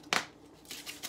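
A zip-top bag holding steak seasoning of pepper and red pepper flakes is pressed shut, giving a sharp crinkling plastic snap followed by a few softer rustles and clicks, close and brief.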